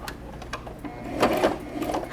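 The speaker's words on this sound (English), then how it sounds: "for sewing your darts, start on the outside there" A sewing machine stitches darts in fabric for a bowl cozy, giving a close, steady mechanical whir with a quick rhythmic clatter that builds louder partway through, and no talking over it.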